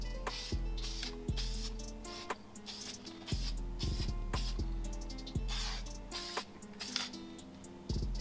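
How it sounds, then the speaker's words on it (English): An aerosol can sprays paint onto brake calipers in short bursts of hiss, broken by light clicks and rattles of the can, heard close and fairly quiet with no talking. "So when you spray, you don't want to go heavy so you don't have any runs."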